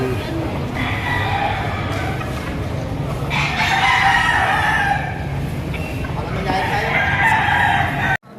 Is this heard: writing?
no